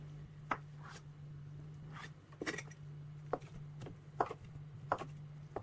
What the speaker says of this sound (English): I am just cutting my tofu, which is extra firm